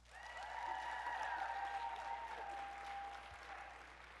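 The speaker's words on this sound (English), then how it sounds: "Let's give them another round of applause." Steady applause from an audience at a cast event for Chilling Adventures of Sabrina, swelling quickly and holding as a continuous wash of clapping for about four seconds.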